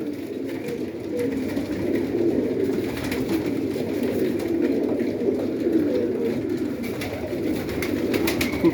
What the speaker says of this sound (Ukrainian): Голубятня гуда.